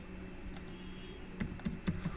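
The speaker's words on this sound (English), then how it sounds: "And where I'm typing" Light typing on a computer keyboard, a few soft scattered keystrokes over quiet room hiss with no talk.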